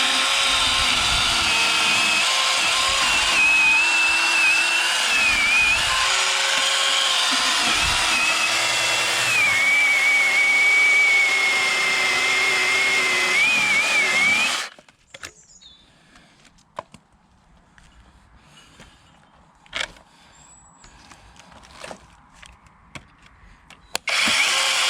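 A Goldsea 21V electric 8-inch chainsaw runs loud and close for about fifteen seconds, a whining buzz that dips and strains as it cuts through wood, then cuts off into near silence with a few light knocks.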